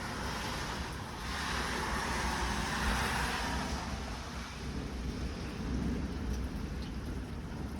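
A severe thunderstorm over Minnesota and Iowa brings low, rolling thunder under a constant wash of heavy rain, steady and moderately loud throughout, with no talking.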